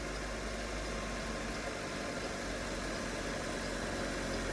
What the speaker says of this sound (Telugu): సార్ ఇంజిన్ నాయిస్ గమనించు.